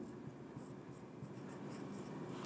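A blue pen writes steadily on paper, a faint continuous scratching with small stroke accents throughout, heard alone.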